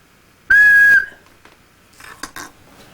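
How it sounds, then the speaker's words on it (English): A whistle blown once, a single piercing, steady blast lasting about half a second, followed by light clinks of dishes and utensils in a quiet room. "So blow the whistle."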